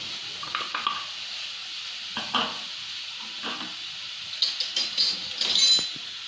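Onion, capsicum pieces and grated carrot fry in a pan, a soft steady sizzle underneath with scattered scraping stirs and clinks of a spatula, busier toward the end.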